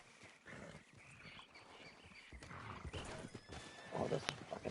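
A horse in a video game snorts and clip-clops, faint hoofbeats and whinny-like bursts at a low level, with a sharp tonal blip near the end amid quiet game ambience.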